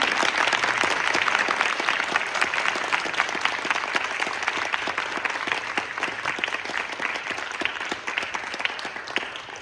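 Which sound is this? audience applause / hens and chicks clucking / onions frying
audience applause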